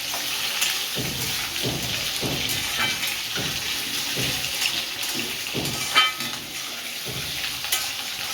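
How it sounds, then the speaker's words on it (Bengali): Potatoes fry in hot oil in a pan for a Bengali fish-roe dish, a steady close sizzle broken by the scrape and clink of a stirring utensil against the pan every second or so, with no talk. "আলুটা ভেজে নিলাম, আলু ভাজা হয়ে গেছে"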